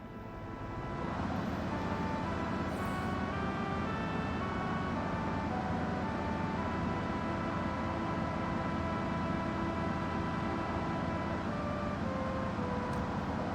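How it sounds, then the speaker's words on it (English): Police car siren from the 1998 PlayStation game Mizzurna Falls, a steady wailing tone that starts after a second and holds loud and continuous over a low engine hum, with no voices. "Police car."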